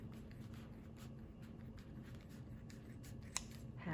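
Scissors snipping through a folded low-carb tortilla, a quiet series of small crisp cuts and rustles close by, with one sharper click near the end.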